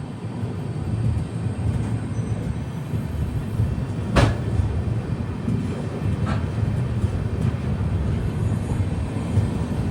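The Guwahati to Sairang Express stands at Bhairabi station in Mizoram's Kolasib district, a steady low rumble of the idling train filling the platform, with one sharp clank partway through.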